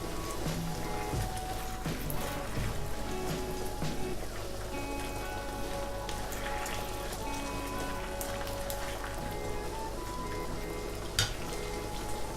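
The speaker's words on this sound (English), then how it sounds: "I'm going to let this meat cook for about 3 minutes so it can grab the flavor of the sauce" Pork simmering in sauce in a pan for a Thai basil pork dish, giving a steady, dense sizzle and bubbling throughout, with occasional faint clinks and no talking.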